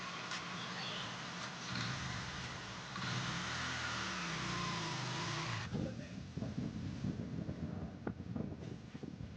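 A motorcycle engine runs on the road, faint and muffled by wind buffeting the microphone. It swells in a rising rev, then settles into an uneven, putting rumble.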